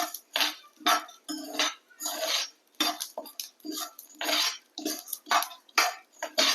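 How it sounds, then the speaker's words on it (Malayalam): Half a cup of roasted gram is dry roasted in a pan and stirred, making repeated rhythmic bursts of gritty rattling and scraping with short pauses between strokes. "ഇതും കൂടെ നന്നായിട്ട് വറുക്കാം."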